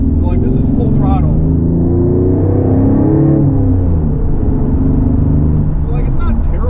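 A V6 Pontiac Firebird track car at full throttle in second gear, a loud steady engine drone climbing in pitch and then easing, heard close from inside the car with no talk over it.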